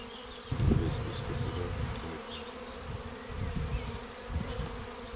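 Honeybee swarm entering a hive outdoors, a dense, close buzzing drone that rises and falls steadily for several seconds.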